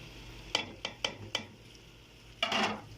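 A spoon stirs spices into okra in a pan, a few sharp scraping taps spaced out, then a longer rustling scrape, quiet and close with no talk.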